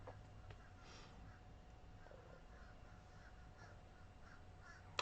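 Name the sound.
crows cawing across the street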